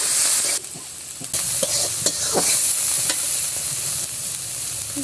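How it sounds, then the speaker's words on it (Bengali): Spices sizzle and fry steadily in a hot pan, stirred now and then with brief scraping strokes, loud and close with no talking. "এবার সব মশলাগুলো আমি সুন্দর করে ভেজে নেব।"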